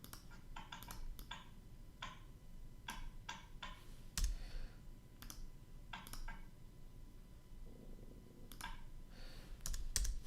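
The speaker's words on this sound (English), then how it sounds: "someone is typing pretty hard on this keyboard" Hard typing on a computer keyboard during a live forex trading session: irregular bursts of sharp, close clicks and key taps, some single strikes louder than others, with no talk.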